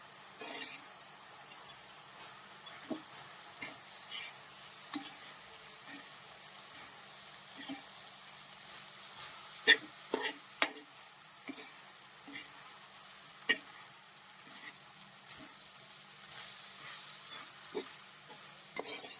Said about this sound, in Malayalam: ഇനി ഇതൊന്ന് നന്നായിട്ട് മിക്സ് ചെയ്യാം.